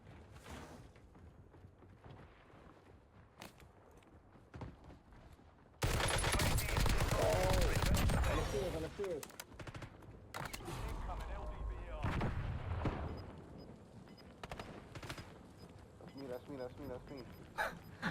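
Video game gunfire in Warzone on Rebirth Island, with bursts of rapid automatic shots and heavy blasts, including a dense loud stretch of sustained firing, mixed with close excited talk from a player.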